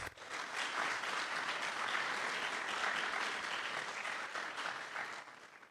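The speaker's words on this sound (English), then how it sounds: "A round of applause." An audience greets introduced school district officials with a sustained wash of applause, many hands clapping at once, steady for about five seconds and then tapering off.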